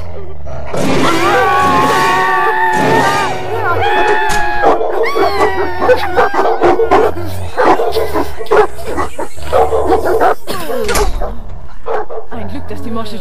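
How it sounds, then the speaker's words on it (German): A dog in a German-language audio play barks, yips and growls in loud bursts with crowd-like commotion, interleaved with dramatic voices speaking over and between the barking. "Ein Glück, dass die morsche Tür den Hund aufgehalten hat."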